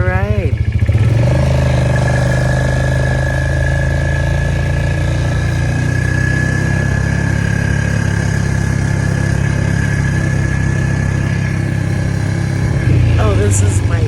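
A four-wheeler ATV engine runs steadily throughout a ride on a cool, bright day, a loud continuous low drone with a sustained mid-pitch whine, close to the listener.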